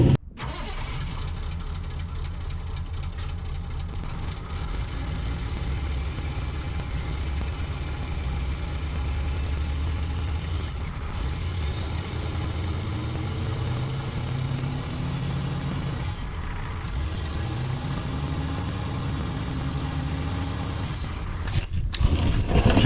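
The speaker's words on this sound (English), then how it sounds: "So let me go start the truck." The diesel engine of a 1988 GMC C7 dump truck cranks and catches, then settles into a loud, steady idle with a rising whine and occasional revving, close by and sustained throughout.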